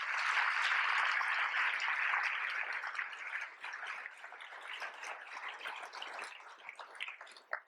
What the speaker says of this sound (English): let's give them a big round of applause for doing it